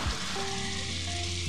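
Green beans dropped into spices frying in a pan for a no-onion fish curry give off a strong, steady sizzle that flares up right away and holds close and loud throughout.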